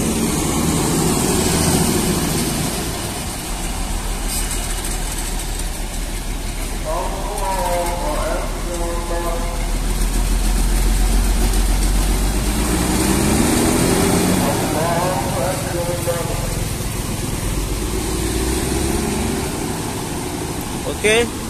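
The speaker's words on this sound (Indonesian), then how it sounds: "Oke, kedengaran kan suara kulernya?" Steady drone of a Mitsubishi Cold Diesel-engined bus idling at a Pekanbaru bus terminal, its air-conditioning cooler running continuously underneath, while people talk intermittently nearby.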